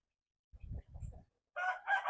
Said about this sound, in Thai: นั่นก็คือไก่ชน นะครับ